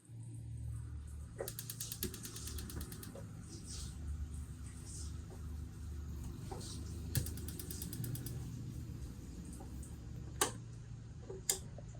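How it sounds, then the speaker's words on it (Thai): Rapid bursts of sharp electric sparking clicks from a gas stove igniter after its spark circuit board was replaced, repeated several times, faint against a low background hum. "กดเทสก็จะมีไฟสปาร์กอย่างนี้ครับ"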